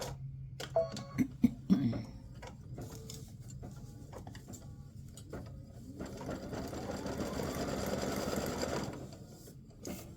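An embroidery machine stitches a free-standing lace bow. A few sharp clicks and thumps come first, then a steady, close mechanical whir of rapid stitching runs on alone.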